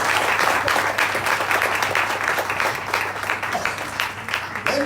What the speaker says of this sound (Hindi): Amen, बजाओ ताली।